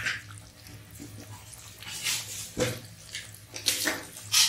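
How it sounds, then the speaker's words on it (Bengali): About one cup of water poured into a cooking pot while making Bengali chicken rezala, a close, quiet splashing trickle with several bursts of pouring. "1 কাপ জল দিয়ে দিচ্ছি"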